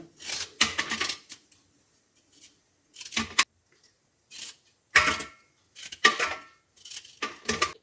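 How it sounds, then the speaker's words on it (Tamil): A knife chops fresh ginger into small pieces for Tamil-style ginger pickle, making close, crisp bursts of cutting and knocking on a board, separated by short quiet gaps. "இந்த இஞ்சியை இந்த மாதிரி கட் பண்ணிக்கோங்க"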